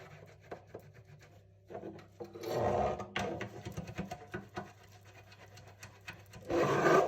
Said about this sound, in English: At first I'm buttering the tin very thoroughly, so butter is really everywhere. And I do this with just softened butter and a silicone brush.